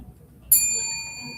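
A single bright bell ding signalling a misspelled word at a school spelling bee, struck once and ringing on with a clear sustained tone that slowly fades, with no talk over it.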